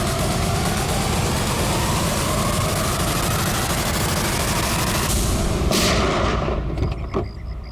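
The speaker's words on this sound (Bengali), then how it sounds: "নাও রিভলভার আর চালাও গুলি।" Revolver gunfire in a tense crime-drama scene: a loud, steady roar fills the clip, then a sharp blast lands near the end, followed by a fading tail.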